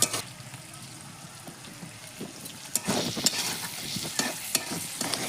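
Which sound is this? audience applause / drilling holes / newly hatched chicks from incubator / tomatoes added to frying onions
tomatoes added to frying onions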